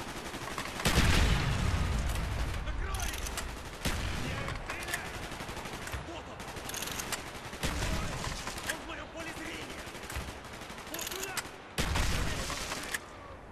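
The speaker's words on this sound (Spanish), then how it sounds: "Los disparos llaman la atención" Gunfire in Call of Duty Black Ops, with repeated loud bursts of automatic and single shots alongside explosive thumps, broken by brief lulls, with voices mixed in.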